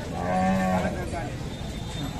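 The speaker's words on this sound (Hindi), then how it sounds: "भैंस ही भैंस है।" A buffalo lows once at a livestock market near Bareilly in Uttar Pradesh, a short, close moo followed by crowd murmur.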